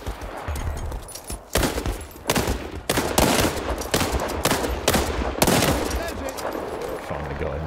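Bursts of rapid video game gunfire, loud and close, with short gaps between volleys and a faint voice underneath.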